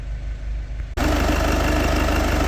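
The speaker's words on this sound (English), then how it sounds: "It's running at the moment. This is a diesel engine." A Mitsubishi Delica diesel engine idles loudly and steadily, a close, rough low-pitched rumble with an even rhythmic knock that jumps up sharply partway through.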